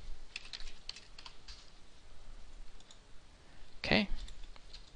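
Keystrokes on a computer keyboard as a short value is entered in drafting software, a few scattered light clicks and one brief louder burst near the end, quiet and close.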